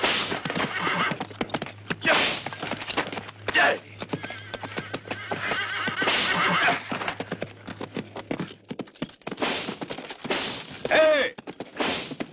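A horse neighs and whinnies repeatedly amid clattering hoofbeats in a western film scene, with sharp bangs and a low steady hum underneath for much of the scene.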